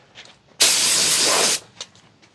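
A single aerosol spray paint burst lasting about one second hits an aluminium wheel rim during refinishing, a loud close hiss that starts abruptly and cuts off sharply, with faint quieter sounds around it.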